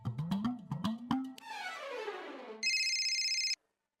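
A telephone rings during a domestic scene in a Marathi TV drama: a short, bright electronic ring lasting about a second, following a stretch of louder mixed sound.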